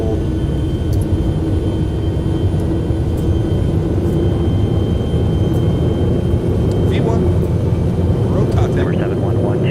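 Boeing 737-300 jet engines spooling at takeoff power in the X-Plane 11 flight simulator, a steady loud roar with a rising whine near the end, while cockpit radio voices talk over it.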